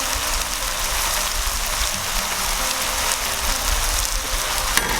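Masala of jeera powder, coriander powder and garam masala sizzles loudly in a pan while being stirred for a vegetable dum biryani, a dense, constant frying crackle close by with no talk.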